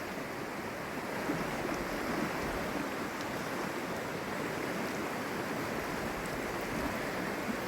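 A swollen river in rural Cornwall rushes past after storm rain, giving a steady, dense roar of water that stays constant throughout, with no voices.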